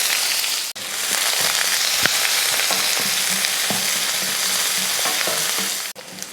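Onion, along with mustard seeds, urad dal, curry leaves and garlic, fries in hot oil in a kadai, giving a loud continuous sizzle broken by scraping stir strokes and a couple of brief pauses, with no talking.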